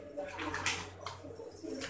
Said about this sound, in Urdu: یہ دیکھ لیں جناب اچھے کبوتر ہیں ماشاء اللہ سارے